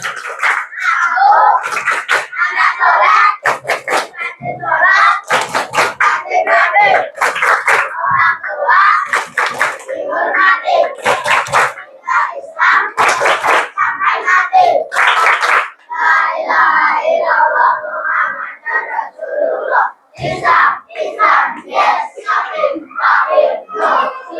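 Children at a mosque Quran class clap and chant a rhythmic counting call-and-response together, loud bursts of group claps alternating with lively shouted chanting voices, close by and energetic.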